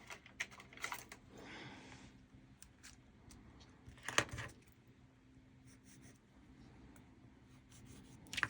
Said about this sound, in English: I'm actually going to draw some pencil lines on.